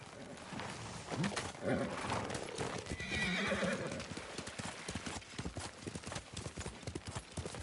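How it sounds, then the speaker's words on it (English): Horses gallop in a video game, a loud rapid clip-clop of hooves with a sharp neigh, under brief voices. "To your horses, men."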